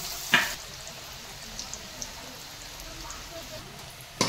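Jackfruit dhoka lentil cakes frying in oil, giving a faint, steady low sizzle with a couple of brief sharp clinks near the start and end, close and quiet.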